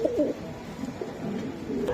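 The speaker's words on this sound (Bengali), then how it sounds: "ভাই এটা কি কবুতর এটা মোরাসেল মোরাসেল কবুতর" Pigeons of a racing breed cooing nearby in a low, throaty, repeated call, with faint market background noise behind them and no clear speech.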